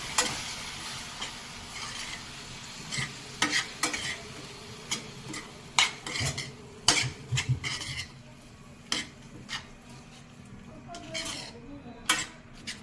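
Dill leaves being stirred into khichdi in a pot, with irregular scraping and clinking strokes of a spoon against the metal and a faint sizzle underneath, heard close and without talk.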